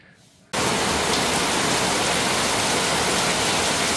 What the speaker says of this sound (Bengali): দেখেন সকাল সকাল বৃষ্টি শুরু হয়ে গেছে